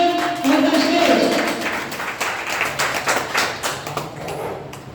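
Audience at a Metaforce seminar in Farrukhabad claps and applauds to welcome a speaker onto the stage, a dense steady patter of many hands that stays loud throughout with a voice and music-like tones mixed in early on.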